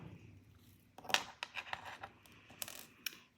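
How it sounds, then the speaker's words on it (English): Small jewelry wire cutters snip off excess wire while making lapis rectangle earrings, giving a few faint, close clicks and light metallic ticks in a quiet room. "And then I'm gonna cut off my excess wire."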